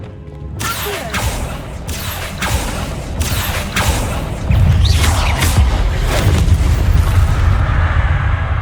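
Repeated booming blasts from the Confringo spell in Hogwarts Legacy, cast near a stone archway, arrive as a rapid series of loud broadband impacts. Heavy rumble thickens after the midpoint, with no voices.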